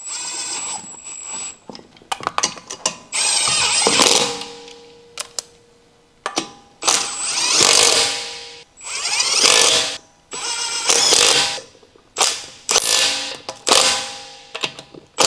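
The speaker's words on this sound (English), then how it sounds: "Using the 19mm long socket with the impact wrench, snug the lug nuts." An impact wrench with a 19mm long socket snugs the lug nuts on a Honda Civic, firing in repeated loud rattling bursts of a second or two each with brief gaps between them, close up.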